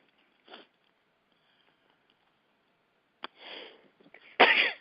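A person sneezes, a sharp close burst preceded by a few smaller breathy catches and sniffs against an otherwise quiet background.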